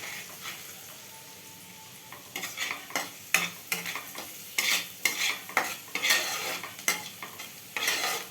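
Food sizzles in a pan while being stirred with a utensil, a steady frying hiss broken by repeated scraping strokes against the pan, close and fairly loud.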